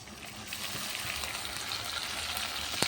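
Ginger, garlic and cumin paste sizzles in a pan over a clay stove while being stirred: a steady, close frying hiss with a sharp clink near the end.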